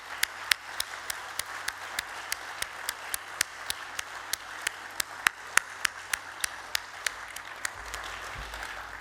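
A small audience at an honorary fellowships ceremony gives sparse, distinct applause, individual claps ringing out at a steady rhythm, fairly quiet and alone for the whole stretch.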